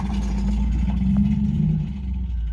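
Cadillac engine running with its cooling fan, a loud, steady low drone and hum close by with a slight rise in pitch partway through, no voices.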